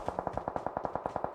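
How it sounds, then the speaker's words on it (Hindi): Rapid automatic gunfire in the mobile shooter game PUBG/BGMI, a steady run of about a dozen evenly spaced shots, loud and close with no talking. "मुझे सामने से आ रही होती है फायरिंग।"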